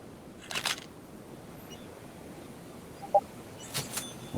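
Two short, crisp camera-shutter clicks from a selfie taken in the VR fishing game Real VR Fishing, spaced a few seconds apart over quiet background hiss, with a small beep between them.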